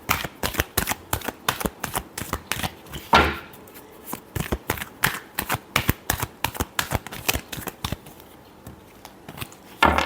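Tarot cards shuffled by hand, a steady run of quick crisp riffling bursts close up, with a brief louder card flick near the start and short pauses between bursts; no talking.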